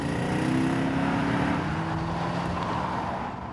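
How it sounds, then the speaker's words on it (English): Hand-built AMG engine in a 2003–2006 Mercedes W211 running with a steady, throaty drone that slowly eases in pitch, fairly close and continuous with no speech over it. "there's a hand-built engine under the bonnet with a fantastic voice"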